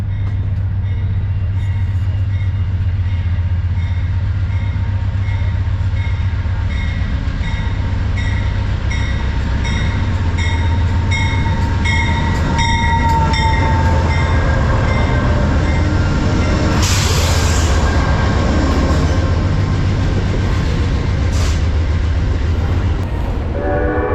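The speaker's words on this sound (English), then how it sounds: "Train just pulled out" An Amtrak California Zephyr train pulls out of a station, rumbling steadily along the rails, a continuous heavy drone with wheel noise and a brief hiss partway through, loud and close throughout.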